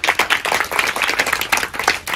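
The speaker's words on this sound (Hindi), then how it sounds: "एक बार उसके लिए भी जोरदार तालियां।" Loud, continuous applause from an audience at a foundation event, dense clapping sustained throughout with no talk over it.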